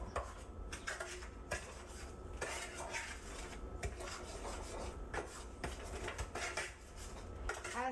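Cinnamon sugar is stirred and scraped around a bowl for churros, giving a continuous close gritty rubbing and rasping with light clinks of utensil on the bowl, steady throughout.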